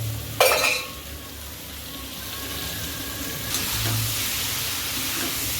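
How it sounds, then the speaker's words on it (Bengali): Paneer with shredded cabbage, chopped onion, tomato and coriander frying in a pan, a steady soft sizzle with a sharp clatter of stirring near the start and a brief scrape later, no voices. "ভাজা ভাজা করে নেব"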